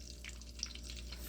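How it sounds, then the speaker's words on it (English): Fresh eggs fry on a flat griddle pan, giving a quiet, steady sizzle and crackle with small pops, close by and faint, with no talking. "Frying the fresh eggs from this morning."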